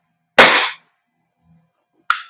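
A WE Glock 35 Force Series T2 airsoft gas blowback pistol fires two sharp, loud, close pops, separated by a pause of more than a second and heard with no voices.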